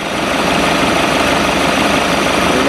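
A rebuilt boat engine on a sea trial, steady and loud, its low rumble and broadband roar filling the whole stretch without a break and with no voices.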